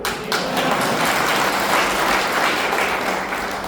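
A crowd at a Shiv Sena party workers' meeting in Chiplun claps steadily, a dense, loud and continuous applause that lasts the whole stretch with no talk over it.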